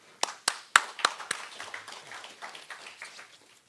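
Scattered hands clapping in a conference hall to welcome a speaker, a few sharp, loud claps at first, then quieter, thinning applause from a small audience that fades out within a few seconds.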